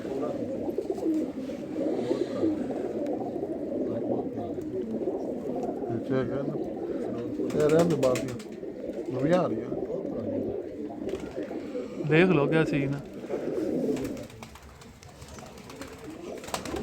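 Pigeons coo on a home rooftop in soft, repeated low murmuring bursts, close and fairly faint, while someone talks over them for much of the time.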